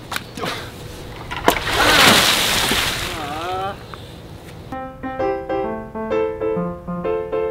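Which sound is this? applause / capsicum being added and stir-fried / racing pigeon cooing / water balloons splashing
water balloons splashing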